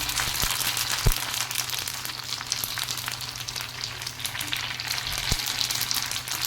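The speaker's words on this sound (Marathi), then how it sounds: "पाणीपुरीच्या पुऱ्या मिळतात, त्याच मी तळून घेते। एकदम गरम तेल केलेलं आहे।" Ready-made pani puri shells deep-frying in very hot oil give off a dense, continuous crackling sizzle, close and loud, with a couple of soft knocks in the background.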